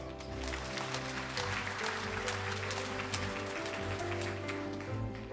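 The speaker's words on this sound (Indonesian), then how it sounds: "Tepuk tangan untuk kita semua." Audience applause at a graduation oration ceremony, a steady wash of clapping from a crowd over a low hum, continuing evenly throughout.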